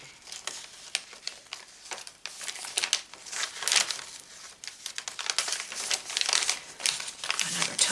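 Papery crinkles and soft flaps of pages being turned one after another in a vintage sewing journal, an irregular run of close, light rustling bursts.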